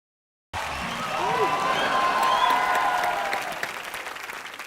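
A television studio audience breaks into applause after a moment of silence, a dense, steady clapping that swells and then slowly tapers, with voices talking over it.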